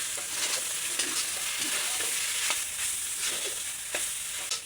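Dried loitta fish and potatoes frying in a pan in a rustic village-style cooking setup, a steady broad sizzle with repeated stirring scrapes every second or so, continuous and close.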